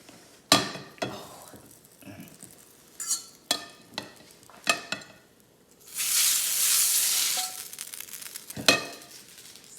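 German noodles stirred with butter in a frying pan: a series of sharp clinks and scrapes of a utensil against the pan, then a few seconds of loud hissing sizzle before one last knock.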